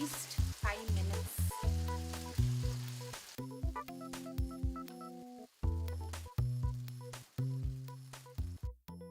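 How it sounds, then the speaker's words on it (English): Steady sizzling of cumin paste frying in hot oil, with light stirring, under melodic background music. "Now I am adding the jeera paste, and this got to fry for at least 5 minutes."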